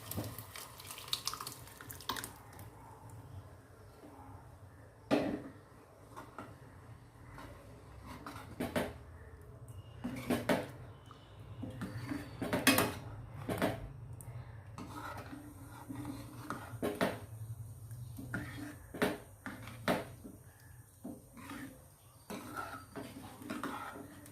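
Cooked dal is poured from a vessel into a pan of softened tomatoes for an amla dal, giving wet splashing and slopping with scattered clinks and scrapes over about twenty-four seconds, fairly quiet throughout.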